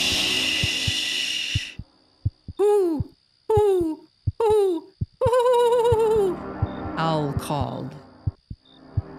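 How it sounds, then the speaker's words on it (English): Owl hooting sound effects in a children's read-aloud story about a knight owl, a series of separate wavering hoots with a swooshing effect, set between lines of a narrator reading aloud. "Owl called."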